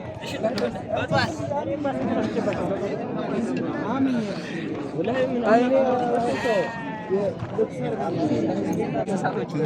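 Sheep bleat repeatedly amid a busy crowd of people chattering and calling out at a sheep and goat livestock market, a noisy outdoor scene with voices throughout.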